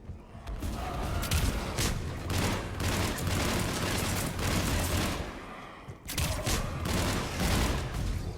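Heavy sustained gunfire in Mass Effect 3 fills the space with dense rapid volleys and thuds. It pauses briefly near the end, then resumes, loud and close throughout.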